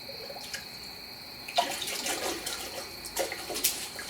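Water splashes and sloshes in a few bursts over a faint steady hiss, close by, as a paint spray gun cup is rinsed and swished out with water.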